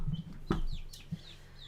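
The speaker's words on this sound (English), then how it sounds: "Let me grab some chickens to show you, huh?" Backyard chickens cluck a few times close by, short throaty calls spaced irregularly over a quiet background, with no one speaking.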